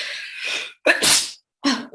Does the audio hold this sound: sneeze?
yes